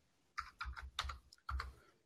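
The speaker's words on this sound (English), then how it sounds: "You're literally typing the sentence I'm reading." Short bursts of clicky keystrokes on a computer keyboard, quiet and close, in a few quick clusters with brief pauses between them.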